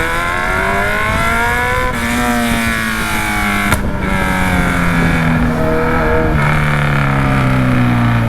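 A loud vehicle exhaust revs hard close by, its engine note climbing and sagging in rough harmonic sweeps with crackling pops, a raw, aggressive roar held for several seconds with faint voices beneath.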